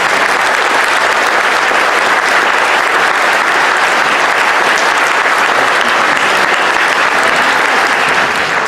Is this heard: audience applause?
yes